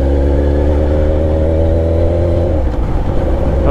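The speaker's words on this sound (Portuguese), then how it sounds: "Vocês estão escutando a moto fazendo..." A Suzuki SRAD 1000 sport motorcycle engine runs close by with a steady, throaty drone that turns rougher and uneven toward the end.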